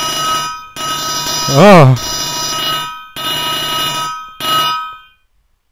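A Minecraft map's phone ringtone plays as a repeating electronic chime in four bursts with short gaps, loud and close, interrupted by a brief rising exclamation from a voice.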